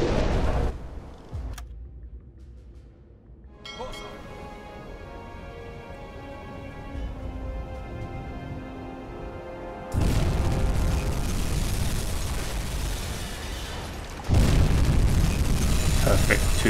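Heavy torpedo explosions hitting a tanker in a U-boat submarine game: low booming blasts that hit suddenly and leave a loud rumbling roar, with a voice speaking between them.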